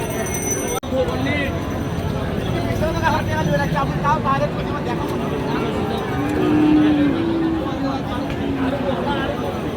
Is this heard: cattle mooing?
yes